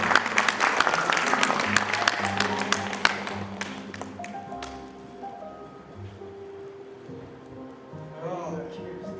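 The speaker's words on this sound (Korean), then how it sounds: "큰 박수 부탁드리겠습니다." Audience applause at a short film festival award ceremony, steady clapping from a crowd that thins after a few seconds while a voice speaks over it.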